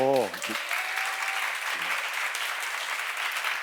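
A church seminar audience breaks into applause, steady broadband clapping lasting several seconds after a brief voice at the start, fairly even and moderately loud throughout.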